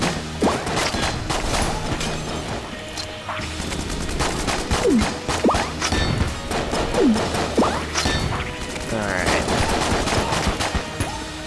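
Enter the Gungeon gunfire and bullets crack out in dense, rapid bursts of game shots, impacts and smashing hits that overlap almost nonstop and stay loud throughout.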